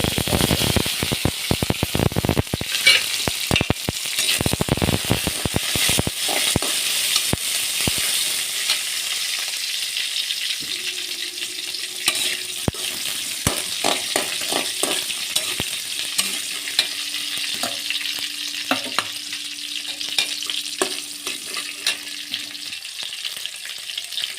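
Shallots, dried red chillies and curry leaves fry with mustard seeds in hot oil, a dense, close sizzle with crackling pops that runs continuously, busier at the start and then settling into a steady hiss.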